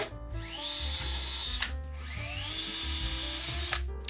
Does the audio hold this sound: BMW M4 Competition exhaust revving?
no